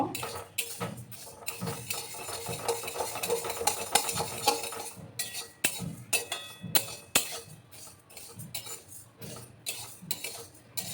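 Moong dal dry-frying in a pan while a spoon stirs it continuously, with repeated scraping and clinking strokes over a soft sizzle, close and fairly quiet, no talk.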